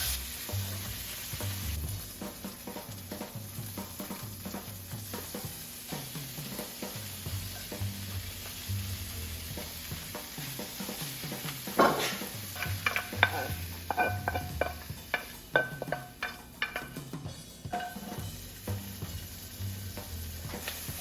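Garlic, ginger and spinach fry in a hot pan with a steady close-up crackle, joined midway by busy scraping and tossing as a utensil stirs the greens, the clatter growing louder toward the end.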